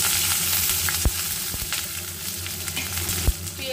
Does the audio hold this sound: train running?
no